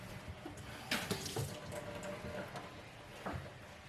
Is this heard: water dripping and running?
yes